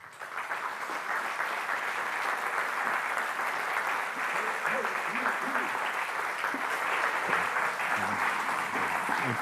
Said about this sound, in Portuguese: Sem mais demoras, uma salva de palmas,